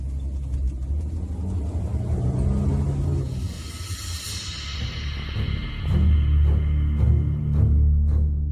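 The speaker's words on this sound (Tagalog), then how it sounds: "Mabuti na lang marunong magmaneho si Ben ng aming owner jeep" An owner-type jeep rumbles as a sound effect in a spoken horror story, a deep throbbing engine drone that swells, sweeps with a rising whoosh, then settles into a heavier low idle and drive, with no talk over it.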